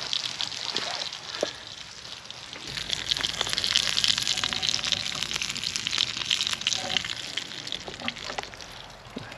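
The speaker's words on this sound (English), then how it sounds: "My sausages are sizzling." Steady crackling sizzle of sausages cooking over an open campfire in woodland, with pops and hiss throughout, fairly close.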